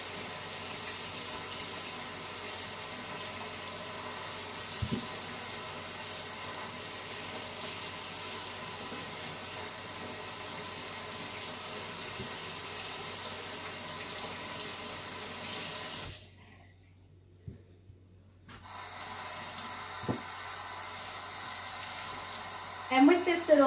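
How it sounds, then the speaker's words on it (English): Steady running tap water splashes over reborn doll parts being rinsed in a sink, a continuous close rush that cuts out briefly before resuming. "Now I'm just going to rinse them all off."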